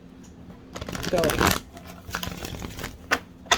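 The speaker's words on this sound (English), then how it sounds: "I'm going to shuffle these cards just a few more times" A deck of tarot cards is shuffled up close in several quick riffling bursts, with brief pauses and sharp snaps between them, while a voice speaks briefly over the sound.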